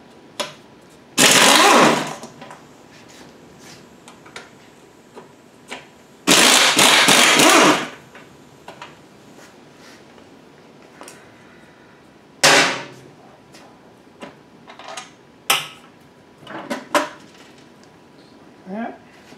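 Bolts being removed from the front starter of a Frazer rototiller with a 9/16 tool, with loud bursts of whirring and rattling tool noise separated by quieter clinks and handling sounds nearby.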